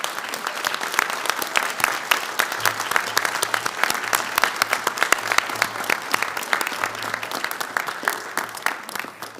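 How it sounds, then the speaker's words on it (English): Graduation ceremony audience clapping and cheering in a hall, dense sustained applause with sharp overlapping claps and scattered shouts from many people, steady and fairly loud throughout. "Let's turn around and give them a big cheer and clap."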